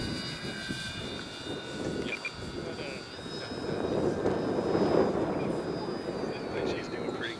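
An Avios Twin Otter twin-engine STOL radio-control model plane flying on a windy day, a thin steady electric motor whine drifting overhead over gusty wind noise, with someone talking throughout.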